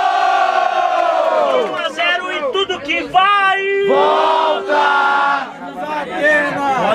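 A crowd cheers and shouts loudly with whoops and overlapping voices, the noise swelling and dipping in waves.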